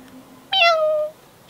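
A single clear cat meow, drawn out and falling in pitch, close and loud against a quiet background.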